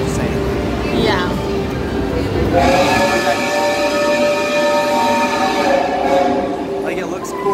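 A train at Universal Orlando rumbles past with a steady mechanical drone and long sustained tonal whines from its wheels and motors, loud and close, while people chat over it.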